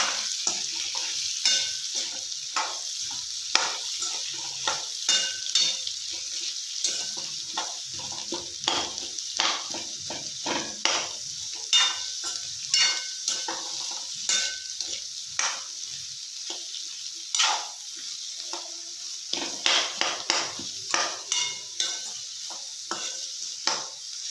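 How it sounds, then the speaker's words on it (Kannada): Chopped onions sizzle and fry in a pan for an onion palya, with repeated scraping stirs of a utensil against the pan throughout, close and fairly loud with no talking. "ಈರುಳ್ಳಿ ಹಾಕೊಳ್ಳೋಣ ಚೆನ್ನಾಗಿ ಕಡಿಸೋಣ ಮಿಕ್ಸ್ ಮಾಡ್ಕೊಳ್ಳೋಣ ಚೆನ್ನಾಗಿ"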